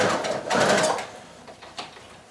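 A sewing machine back stitches at the top of a lined pocket with a flap, a close, loud whirring burst of about a second that then fades to quieter mechanical ticks.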